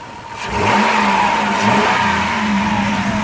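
A 2004 Chrysler Town & Country van's 3.8-litre engine revs up sharply, then holds a loud, steady, rising roar close by.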